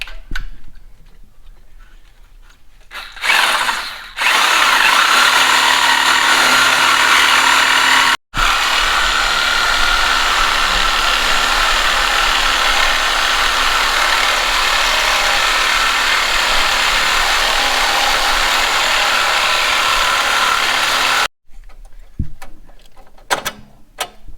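A power tool cuts off a V-band clamp on a 7.3L Powerstroke diesel truck, a loud, steady, high-pitched grinding whine that runs continuously for about seventeen seconds after a short start-up, close by with no talking.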